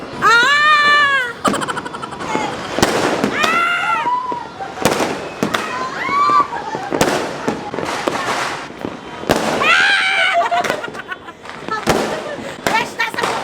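Fireworks burst overhead at a New Year yacht party, a run of loud cracks and whistling rising shells with crackling tails, while people shout and cheer excitedly close by.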